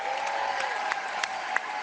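Applause from Liberal MPs and guests for their staff at a caucus holiday party, a steady dense wash of clapping with a few sharper claps poking out, moderately loud.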